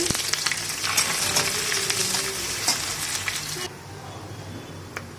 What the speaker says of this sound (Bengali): তেল গরম হয়ে গেছে তেলে শুকনো লঙ্কা একটা দিয়ে দিচ্ছি গোটা জিরে দিয়ে দিচ্ছি পেঁয়াজ দিয়ে দিচ্ছি